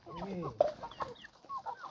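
Chickens cluck in a short, uneven series of soft calls and a sharper squawk, fairly close and moderately loud over a quiet farmyard background.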